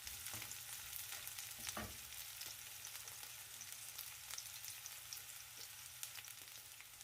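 Onions cooking in a pot for a lentil and vegetable soup, with a faint, even sizzle, occasional soft stirring scrapes, and no voices.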